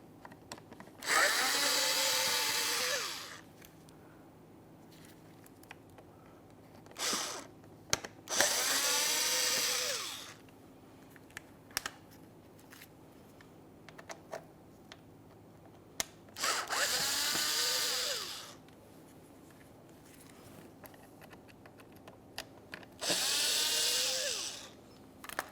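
A power drill unthreads grille bolts on a 2014-2018 Mazda 3, giving four separate high-pitched whirring bursts of a few seconds each, close and loud, with quieter clicks and handling noises between them.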